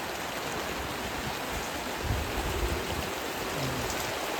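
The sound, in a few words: heavy rain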